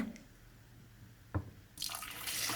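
Rice and quinoa are washed in water, with a faint drip, a soft knock, then a rising splash and rush of running water from a tap into a bowl near the end, close and quiet.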